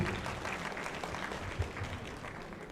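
An audience at an award ceremony for a school board's golden jubilee in an auditorium gives a sustained round of dense clapping, fairly loud and steady throughout.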